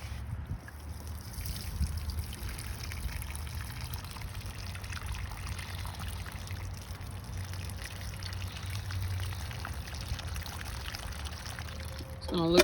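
Water pours steadily onto a freshly transplanted tomato plant in bone-dry soil, a continuous soft splashing trickle running the whole time, close by and fairly quiet.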